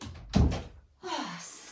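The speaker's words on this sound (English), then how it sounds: "I'll just close the door." A room door is shut with a single solid thunk at close range, between stretches of quiet indoor background, without talking.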